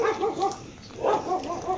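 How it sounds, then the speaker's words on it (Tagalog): A dog barks in repeated short yaps and whimpering cries, close by and moderately loud, in an outdoor riverside setting with some background noise. "May aso."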